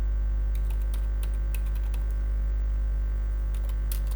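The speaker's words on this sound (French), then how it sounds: "je me place dedans et je tape .header" Keyboard keys clatter in irregular bursts of clicks while CSS code is typed on a computer, close and clear over a steady low hum, with no voices.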